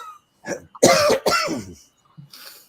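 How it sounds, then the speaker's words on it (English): A person clears their throat and coughs a couple of times up close, short harsh bursts separated by brief pauses. "So apologize for the cough,"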